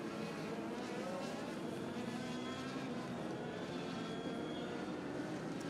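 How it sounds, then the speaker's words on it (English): Legends race cars circle the back stretch at a raceway, a continuous loud, steady engine roar that holds without a break and without talk. "Cars are doubling up on the back stretch."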